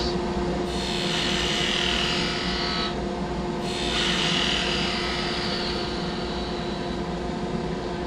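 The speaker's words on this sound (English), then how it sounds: "Planing cut for the handle. Paring the end of the handle so I've got a nice crisp point, and paring the ends of the fibers." A skew chisel making a planing cut along a wooden handle on the lathe gives a hissing, shaving rasp in two sustained passes with a brief pause between, over a steady machine hum.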